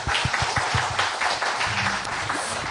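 Audience clapping at a live public broadcast event with a lawmaker, loud, dense and continuous throughout, with rhythmic low thumps running beneath the applause.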